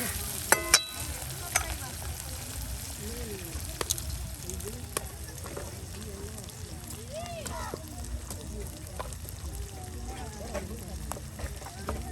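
Onions and chillies frying in oil in an outdoor cooking setting, a low continuous sizzle with occasional knocks and clatter, heard under intermittent talking voices and ambient background noise.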